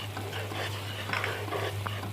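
Spices with fish masala, ajwain and coriander powder frying in a pan while being stirred, a close, steady sizzle broken by short scraping strokes of the spoon, no voices.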